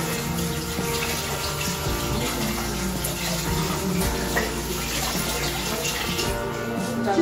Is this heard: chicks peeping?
no